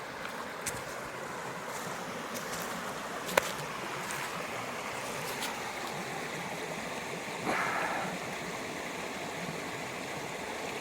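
Creek water flows steadily along a backpacking trail outdoors, a continuous broadband rush with faint wind and a few brief knocks, no talk over it.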